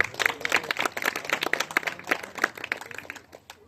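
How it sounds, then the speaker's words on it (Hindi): An audience claps for the cattle doctors who treat cows, a steady burst of many hands beating at moderate loudness for a few seconds, fading slightly at the end. "इनके लिए 2 ताली है"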